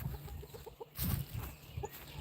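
A quick series of short clucks, followed by a louder scuffle of flapping and squawks from squabbling roosters nearby.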